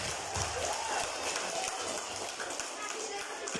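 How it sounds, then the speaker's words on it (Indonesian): Elementary school children applaud at a Maulid Nabi commemoration, giving a continuous rattle of hand claps with voices talking over it. "Tepuk tangan luar biasanya."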